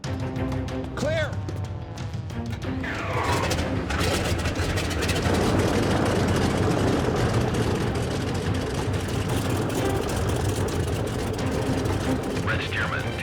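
A radial engine on a red Stearman biplane idles and runs up at an airshow before taxiing to the runway, a steady low rumble that builds and holds, with a voice speaking over it early on.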